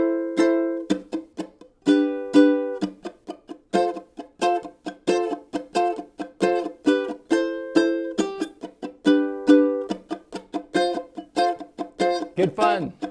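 A lone acoustic guitar strums a chord progression in a steady rhythm, bright and close, with quick strokes and ringing chords and a busier flurry near the end.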